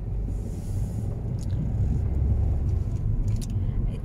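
A car goes by on a small old-town street, a low rumble that swells to a peak near the middle and then fades, with a few faint clicks on top.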